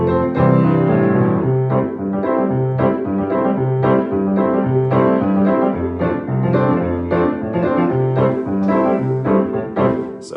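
Piano plays a fast 4/4 accompaniment, the left hand rocking in a steady rhythmic pattern beneath the chords, full and continuous at close range with no talking.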